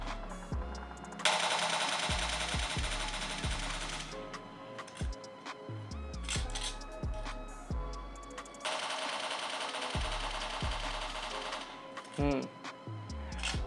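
Bursts of gunfire in PUBG Mobile, played on a realme X7 Pro phone, come as rapid repeated shots in several clusters with crisp metallic clicks between them, close and fairly loud.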